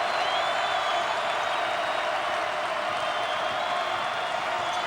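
A basketball crowd on its feet applauding and cheering late in a close 2009 Bradley Braves at Illinois State Redbirds game: a dense, continuous roar of clapping and crowd noise that holds steady throughout.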